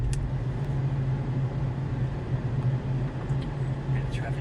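Busy Cambodian street traffic surrounds a van, with a constant low engine rumble from close cars, a steady broadband road noise and faint higher tones, while a person speaks briefly.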